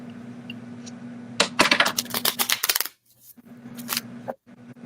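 A deck of playing cards riffled in quick bursts of dense crisp clicks, then a brief pause and another shorter flurry, close and fairly quiet over a steady low hum.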